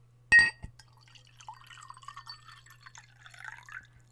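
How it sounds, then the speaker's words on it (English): Wine pours into a glass after a sharp clink at the start: a quiet, trickling, gurgling stream that rises gradually in pitch as the glass fills, with a low steady hum underneath. "That's me pouring wine."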